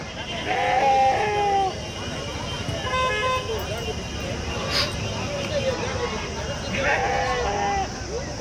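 Goats bleat in short wavering calls at an outdoor goat market in Kadiri, several animals sounding at moderate distance amid steady crowd and traffic noise with people talking nearby.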